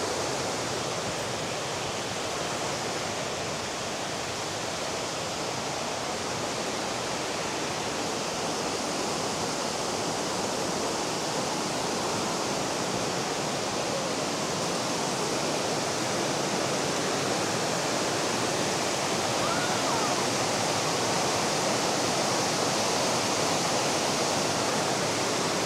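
Creek water tumbles over rocks at Tumbling Waters in Ellijay, Georgia, a steady, loud, broadband rush that holds unbroken throughout with no voices.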